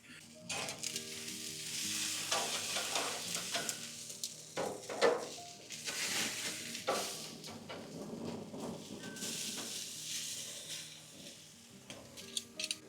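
Steaks sizzle loudly and continuously in a hot pan for a Newfoundland surf and turf, a steady crackling hiss that swells and eases with no voices over it.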